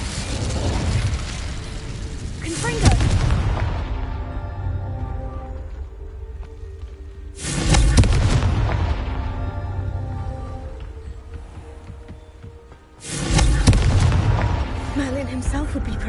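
Three Confringo explosion spells cast in Hogwarts Legacy, each a loud, sudden booming blast with a long decaying rumble, spaced several seconds apart.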